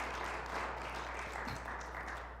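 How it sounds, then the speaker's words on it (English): A church gathering gives a round of applause, with steady, distant-sounding clapping from a crowd that holds at an even level throughout. "Let's have another round of applause."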